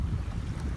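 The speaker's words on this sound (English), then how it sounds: "it's windy as fuck, as I'm sure you guys can hear" Wind gusting over cold, shallow water, a steady, close low rumble buffeting the microphone with no pauses and no voices.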